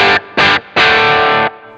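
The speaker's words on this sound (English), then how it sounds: "There's a little bit of distortion starting to happen there, but not much." Three strummed electric guitar chords, two short then one held, with a mildly gritty, lightly distorted tone, played alone and close.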